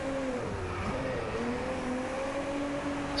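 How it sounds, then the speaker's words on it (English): A car driving in the Drive Club racing game, a steady engine drone with a smooth, sustained tone that shifts slightly in pitch, loud and continuous with no talk. "This car drives really smooth in this game."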